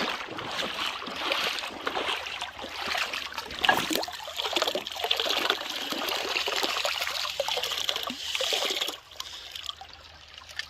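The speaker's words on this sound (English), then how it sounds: "I don't want a lot of water going under the sluice." Water rushing and splashing through a gold prospecting sluice outdoors, a steady close gurgling flow with bubbling trickles that eases slightly near the end.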